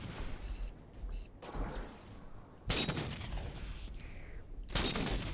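Sniper gunfire on a ridge in the Halo 4 video game, several loud booming shots and bursts in quick succession with game noise between them.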